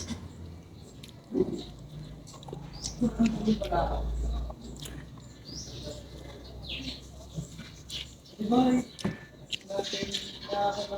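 Chewing while eating a lunch of pakbet with malunggay pods, squash and tomato, with soft, close mouth sounds and bites running under intermittent talking.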